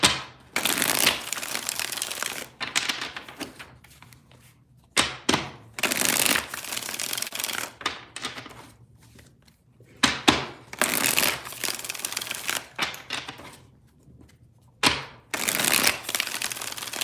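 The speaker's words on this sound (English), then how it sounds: "4 shuffles here." Tarot cards shuffled by hand in repeated bursts of crisp riffling and flicking, close and clear with short pauses between rounds, no talking.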